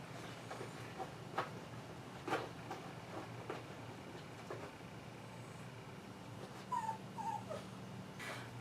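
Small lap dog whimpers softly with faint pattering movements, quiet and intermittent in an indoor room, with short high whines near the end and no talking.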